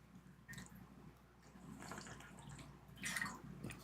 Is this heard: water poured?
yes